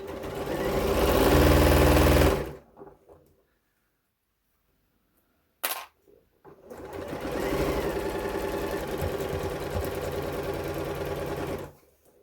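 A sewing machine stitches a fabric tube in two fast, steady runs, a short burst and a longer continuous buzz, separated by a pause with a brief click, close and loud.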